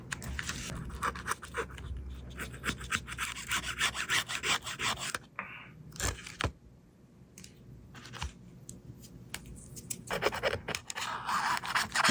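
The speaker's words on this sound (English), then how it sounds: "there we goes with the little screwdriver again. Getting rid of the old frame adhesive." A small screwdriver scrapes old adhesive off a phone frame during a mobile repair, giving close, repeated gritty rubbing and scratching strokes with a brief quiet pause midway before the scraping resumes.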